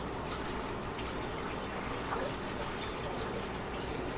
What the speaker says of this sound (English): Water almost overflew